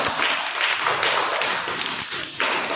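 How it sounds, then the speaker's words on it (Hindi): Schoolchildren in a classroom clap together for a classmate, a fast ragged burst of many small hands patting that holds steady, loud and close, with a brief dip near the end. "उज्मा के लिए ताली बजाओ"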